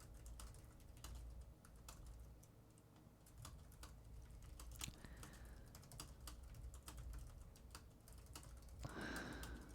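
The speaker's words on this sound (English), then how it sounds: "Just typing." Quiet, close typing on a computer keyboard, irregular clusters of soft key clicks over a low hum, with a brief sniff-like noise near the end.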